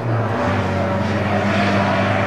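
Historic and modern racing cars, a Jaguar D-Type and a Rover Metro, run around the Cadwell Park circuit with a steady, loud engine drone and no voices.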